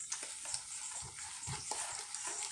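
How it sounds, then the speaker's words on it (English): Hushpuppy batter being stirred with beer in a bowl, a steady wet scraping and sloshing with soft irregular knocks, close and moderately quiet, no voices. "You're going to stop and you're going to mix it."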